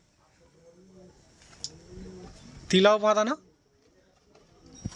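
A pigeon gives a short burst of cooing in the middle, close and fairly loud, while someone talks quietly before and after it.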